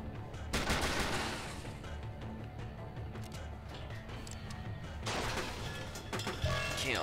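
Gunfire from a kill shot in the turn-based robot shooter Steamworld Heist cracks out in loud bursts, one early and another a few seconds later, amid a busy rattling game soundtrack.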